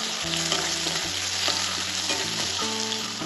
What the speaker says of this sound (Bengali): এটা তেলে দিয়ে দিলাম। চিংড়ি মাছটা ভেজে নেব।